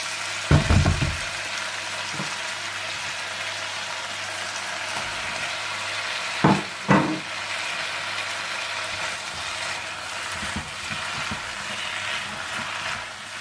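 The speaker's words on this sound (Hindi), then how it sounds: "सब्जियों को अच्छी तरह कुक करने के बाद आप इसमें चिकन डाल दें और इसे भी अच्छी तरह से मिला लें।" Chicken is stir-fried and mixed with vegetables in a pan for chicken chow mein, giving a constant sizzle with a few sharp clatters and scrapes of tossing at the start and again midway.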